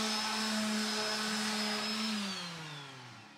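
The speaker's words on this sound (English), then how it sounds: "I've got a very heavy grit sandpaper, I think this is 40 grit. Just going to round the edges" Coarse 40-grit sandpaper rounding the edges of a wooden display stand, a steady loud abrasive whir with a faint tonal hum that drops in pitch and fades toward the end.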